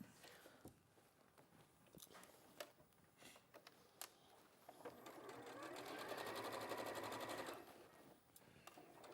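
A domestic sewing machine stitches fabric in a craft studio, starting with short bursts and sharp clicks, then running steadily for a couple of seconds before stopping, close and clear with no talking.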